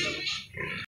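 A pig on a Philippine pig farm gives a single short, close grunt lasting under a second, then stops.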